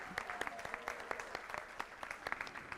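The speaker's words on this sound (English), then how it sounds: "let's show our appreciation for all of tonight's honorees with one final round of applause" Applause from an awards audience saluting the night's honorees at a board meeting, a moderately faint, steady patter of many clapping hands with scattered sharper claps.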